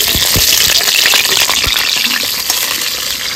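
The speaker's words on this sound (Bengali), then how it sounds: "প্রথমে আলুগুলো ভেজে নেব।" Potatoes frying in oil in a wok for a Bengali chicken curry, a loud, steady crackling sizzle with scattered pops and spatters, close and continuous with no talk.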